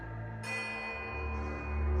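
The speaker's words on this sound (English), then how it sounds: "And in the distance, above, no, behind you, comes an insistent ringing." A small silver bell rings in the fantasy game Pillars of Eternity II, a sustained shimmering metallic tone that swells slightly louder, faint and steady over a low ambient drone.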